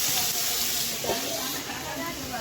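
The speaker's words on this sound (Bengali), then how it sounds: "এবার আলুটা আমি ভেজে নেবো দেখুন পেঁয়াজের সাথে আলুটা আমি এবার ঢাকা দিয়ে দেবো" Potatoes fry with onions in a pan, giving a continuous close hiss and sizzle that stays fairly even throughout.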